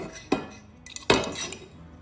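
A ceramic plate clinks twice against a pot or utensils while home-cooked stuffed vine leaves with meat are being served, two sharp close knocks with a light scrape between them and no talking.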